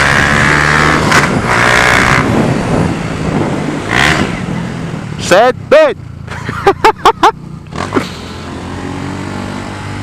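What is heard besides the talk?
tuned Honda Fan 150 motorcycle engine with Gemoto Racing exhaust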